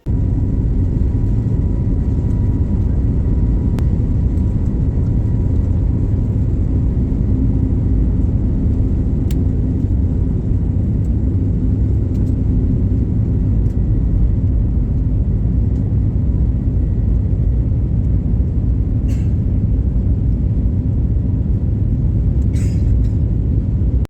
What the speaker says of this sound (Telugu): ఫైనల్గా ఫ్లైట్ అయితే టేక్ ఆఫ్ అయిపోయింది.